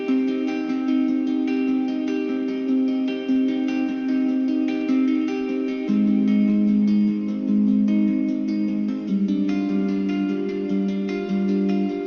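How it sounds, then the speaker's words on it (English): Muted guitar plucks layered with the Electric Sunburst guitar library play a steady, sustained harmonic pattern, dense and continuous with shifting chords, loud and alone in an electronic remix. "We combine that with a library from Electric Sunburst"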